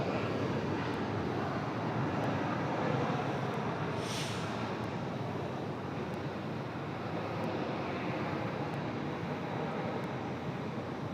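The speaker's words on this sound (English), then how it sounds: "Nice smooth touchdown for the CRJ." A CRJ jet airliner rolls out after touchdown at Raleigh-Durham International, heard as a steady broadband roar from a distance, like wind or surf, with a brief brighter swell partway through and no voices.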